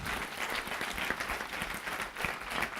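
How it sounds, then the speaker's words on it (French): Congregation members at a church gathering clap for their pastor, a continuous, lively rattle of many hands with slight swells in intensity, heard from within the crowd. "Pouvons-nous applaudir le berger de l'église?"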